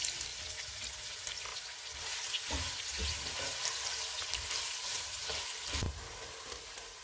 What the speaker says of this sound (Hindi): 2 प्याज डालेंगे, इनको गोल्डन फ्राई करेंगे।